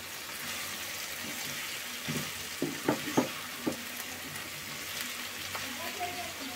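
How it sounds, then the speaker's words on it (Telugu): Moringa drumstick pieces are stirred in a frying pan for a village-style pulusu. A steady low sizzle runs throughout, with a few close, sharp clinks and scrapes of the stirring spoon clustered in the middle. "ములక్కాయ ముక్కలు కూడా వేసుకున్న తర్వాత కాసేపు కలుపుదాం మొత్తం ఒకసారి"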